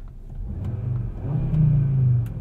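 A 2022 Audi RS 3 engine with sport exhaust rumbles low, then revs up into a deeper, louder growl that holds before easing slightly.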